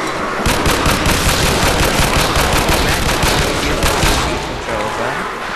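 Loud, sustained machine gun fire in a Nazi Zombies custom moon map video game, a dense unbroken rattle of rapid shots close up that barely lets up for several seconds.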